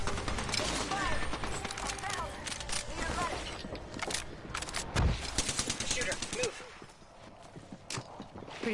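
Rapid automatic gunfire and single shots crackle through a match of the battle royale game Apex Legends, dense near bursts continuing under players chatting.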